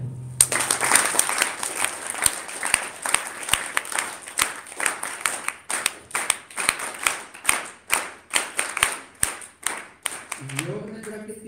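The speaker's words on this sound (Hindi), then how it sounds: "ताली बजाएं।" An audience at an indoor yoga session claps together in steady rhythmic unison, close and loud, with a voice speaking near the end.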